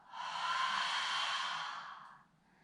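A single long, deep exhale through the mouth during a yoga breathing exercise, a soft, airy rush that swells, holds steady for nearly two seconds, then fades into quiet.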